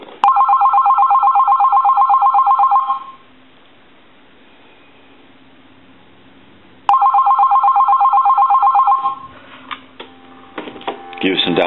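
An AT&T Trimline 210 telephone's electronic bell rings in two long bursts of rapid trilling, separated by a quiet hum, followed by clicks and a brief dial tone.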